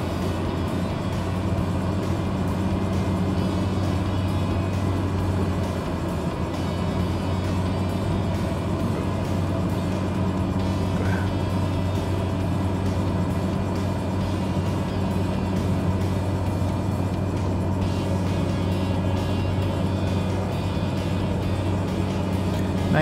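Cessna 208B turboprop in a flight simulator with the throttle pulled back and propeller RPM at full, a continuous low drone and hum that stays steady and fairly loud throughout, with no voices.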